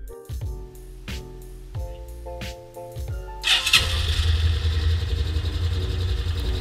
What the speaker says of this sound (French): on va faire démarrer le moteur pour voir si tout est OK